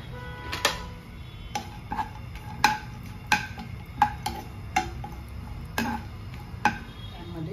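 A spoon clinks and scrapes against a pan in sharp, irregular taps roughly every half second while dry fruits roast and are stirred in two tablespoons of ghee, with a low background hum.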